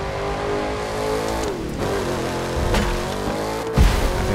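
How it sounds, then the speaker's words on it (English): Race car engine heard from the in-car view in the racing video game The Crew 2, droning steadily with rising and falling revs through gear changes, with a sharp thump and scrape near the end. "I'm not a huge fan of the in-car sound."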